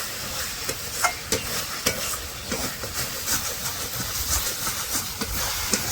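Chicken curry masala being stirred and fried in a pan, a steady close sizzle broken by repeated scraping strokes of the spoon at an uneven rhythm, with no talking.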